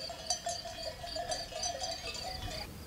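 A herd of sheep bleats nearby with clanking bells, tones repeating irregularly over a steady outdoor background.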